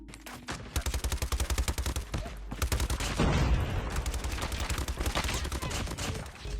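Rapid bursts of automatic fire from the Bison submachine gun in Call of Duty Mobile, sharp repeated shots in quick rhythmic strings with a brief pause between volleys, loud and close.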